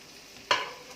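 Mixed vegetables for millet fried rice stirred in a hot pan, a short scraping stir with a burst of sizzle midway through that then fades under a steady frying hiss.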